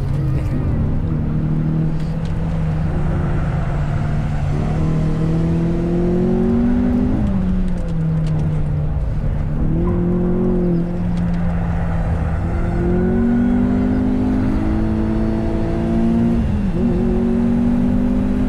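Rally-prepared car, either a Mitsubishi Lancer EVO IX or a Renault Clio RS R27 F1, accelerating steadily through several gear changes, its engine tone climbing, dropping at each shift and climbing again, loud and close.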